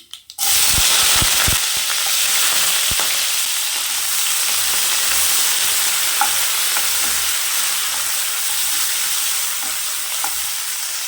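Sliced large onion hits hot oil in a pan with a sharp initial crackle, then settles into a loud, steady sizzle with occasional pops and stirring scrapes throughout.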